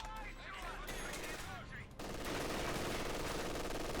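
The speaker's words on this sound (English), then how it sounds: "MG currently hitting the riflemen who are trying to pick him off from afar." Rapid machine-gun bursts and scattered rifle fire from a strategy video game battle, a dense sustained rattle of gunfire that grows louder and busier halfway through, with distant shots and effects underneath.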